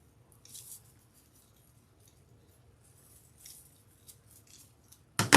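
Scissors trim deco mesh while a wreath is being made, with soft snipping and rustling, faint and close, ending in a louder crisp cut.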